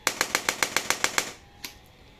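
A 750N chiropractic spine adjuster gun fires at full power in a rapid burst of about ten sharp, loud mechanical clacks at an even rhythm, then one more isolated click after a short pause.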